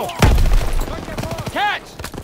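Call of Duty: WWII combat gunfire: one heavy close shot with a deep boom, then scattered lighter bursts of fire, with shouting voices mixed in.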